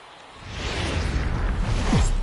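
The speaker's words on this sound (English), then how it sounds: "There is rain in the area." Steady rain noise in the baseball video game MLB The Show 19, a continuous broadband hiss that swells gently and holds at moderate loudness with a faint low rumble underneath, no voices.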